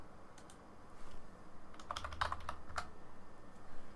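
Keys on a computer keyboard being typed, a quiet burst of several quick clicks clustered in the middle of the stretch, close and fairly soft against a low background hum.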